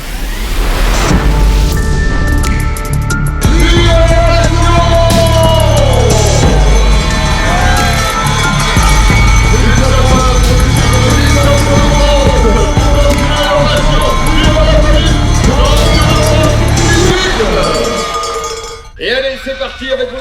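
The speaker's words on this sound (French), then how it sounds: "Et allez, c'est parti avec vos encouragements et vos applaudissements, s'il vous plaît" A crowd at the French Nordic skiing championships cheers loudly and steadily with constant clanging cowbells, while a voice talks over the din before it fades near the end.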